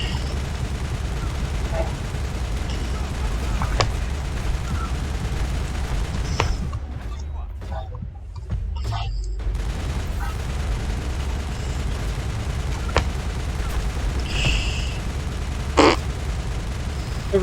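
An assault rifle in Mass Effect fires continuously in a steady, close stream of shots, with a short lull midway and people talking over it.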